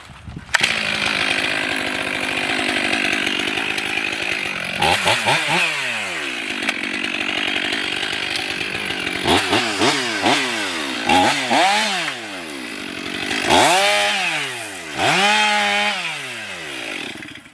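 Chainsaw cutting through tree branches, engine holding a steady drone between several rising and falling revving surges as the chain bites and releases, close and loud throughout with no talk.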